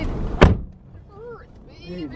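A car door shuts with one sharp, close thud early on, followed by quieter rustling and a few brief vocal sounds inside the car.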